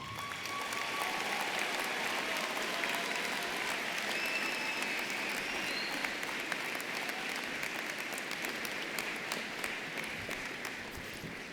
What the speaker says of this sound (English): Please give your student leaders a round of applause.